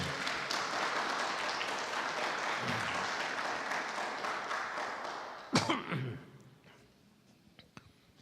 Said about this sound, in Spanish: ¿Cuántos le dan un aplauso de honra al Señor esta noche?